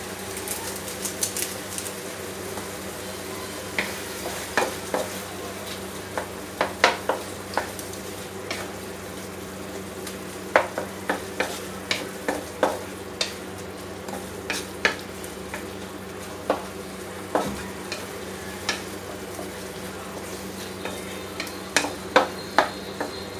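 Fresh tomatoes sizzling in a pan for pasta, under a steady low fry, with a utensil scraping and tapping against the pan in irregular clicks spread throughout, close and without speech.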